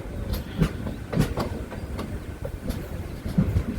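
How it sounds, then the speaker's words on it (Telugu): Venkatadri Express train hauled by a WAP-7 electric locomotive between Chittoor and Tirupati, heard from on board as a steady rumbling ride with rhythmic clicking wheel beats on the rails at moderate loudness. "వ్యాప్ 7 మన ట్రైన్ని పుల్ చేస్తుందండి."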